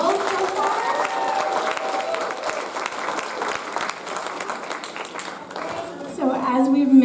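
Steady applause from a crowd at a fashion show fills the room, dense clapping that swells louder toward the end, with a voice briefly heard early on.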